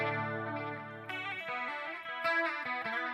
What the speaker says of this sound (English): I would have had a clean sound that would have effectively been something along the lines of this modulation pedal and the amp and the reverb and delay